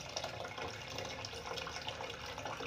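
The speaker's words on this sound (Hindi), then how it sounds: "और अब इसमें मैं पानी डाल दूँगी जितनी मुझे ज़रूरत है" Water pours steadily from a glass into a cooking pot of whole masoor dal, a quiet continuous splashing and gurgling stream with no voices.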